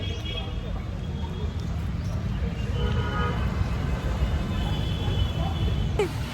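Car horns toot repeatedly over a steady rumble of heavy traffic in a jam in Sambhajinagar, with voices murmuring nearby.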